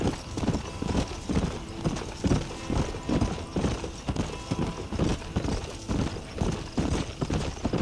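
Horse hooves clip-clop steadily at a trot on a dirt trail in Red Dead Redemption, a close, even rhythm of beats running throughout with no talk over it.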